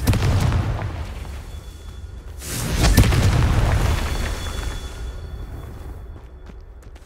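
Confringo spell explosions in the Hogwarts Legacy video game go off as loud, deep booming blasts, with one strong burst near the middle that then rumbles and fades against a dense game soundscape.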